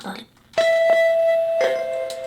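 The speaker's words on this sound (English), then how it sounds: "I don't want to hear that long bell again." A long, sustained bell tone rings out in Honkai Star Rail, starting with a sharp strike and holding steady at a loud level for nearly two seconds. A few soft percussive hits land over it.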